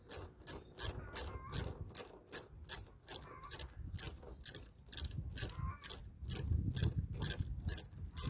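A ratchet wrench clicks rapidly and steadily while a wheel is being removed, a long run of close, even pawl clicks over low mechanical rumble, with no voices.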